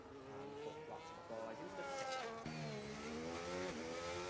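An F1 race car in F1 25 at Australia brakes hard and corners, its high engine note dropping through downshifts then climbing again, with commentary voices running over it.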